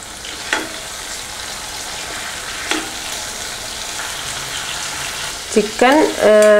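Chicken pieces fry in hot oil for a Kerala pressure cooker biryani, a continuous close sizzle with occasional scrapes as the pieces are turned, and a voice speaks briefly near the end.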